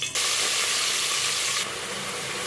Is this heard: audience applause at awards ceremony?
no